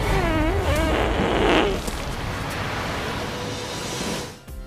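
A flatulent corpse of a man in the film Swiss Army Man lets out a long, loud, wavering, buzzy fart for about a second and a half, followed by a steady, noisy, film-soundtrack background.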